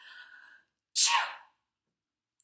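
A single sharp sneeze from someone with a bad cold bursts out after a brief soft vocal sound, then silence.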